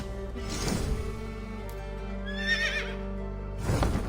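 A horse in Assassin's Creed Valhalla whinnies loudly twice, a rising neigh early and another at the end, with a snort between and a faint clip-clop of hooves under a steady low background hum.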